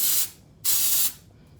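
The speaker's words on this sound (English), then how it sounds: "when you use your texture spray, love this stuff, shoot it upward" Two short hissing bursts of texture spray are aimed upward onto hair, the second slightly longer, with a close, bright aerosol sound and quiet gaps between them.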